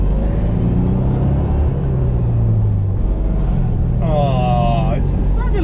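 A Citroën 2CV's small engine drones steadily and close while driving, with a brief rising blip near the end as it downshifts; a person talks over the engine throughout.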